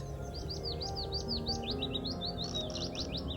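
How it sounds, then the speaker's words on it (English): Many birds chirp and twitter continuously in short high rapid calls, a busy chorus over a steady low background rumble. "I hear a lot of birds, but I don't see them yet."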